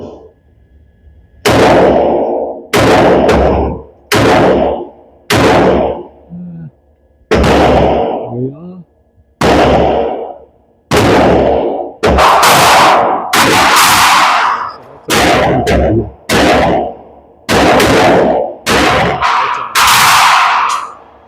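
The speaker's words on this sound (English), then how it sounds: "let's just run a couple of rounds with that" Repeated loud gunshots from an AR9 rifle fitted with a laser sight, fired one at a time at an outdoor range, about a dozen sharp reports spaced roughly a second apart, each ringing briefly before the next.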